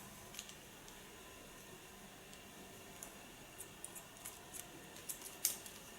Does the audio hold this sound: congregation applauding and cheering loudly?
no